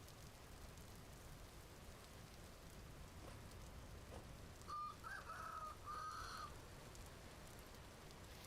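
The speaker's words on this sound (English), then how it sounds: "The game definitely got the rooster sounds right." A rooster in the video game Vintage Story crows twice in quick succession, a moderately loud drawn-out call over a steady background of rain hiss.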